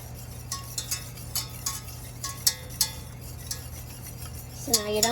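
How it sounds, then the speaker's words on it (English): Sauce for chicken wings is whisked in a bowl, giving light scattered clinks and taps of metal against the bowl over a low steady hum, with a brief squeaky sound near the end. "Whisk it in."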